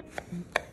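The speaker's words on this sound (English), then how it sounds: "Slice our lemon with the silver sag knife." A knife slices a lemon. A few sharp, close cuts and taps are spaced out over a quiet background.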